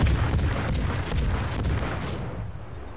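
Ship guns firing in World of Warships, a Tier 7 Leningrad destroyer: several heavy booming shots in quick succession, loud and close, each with a rumbling tail that fades out at the end.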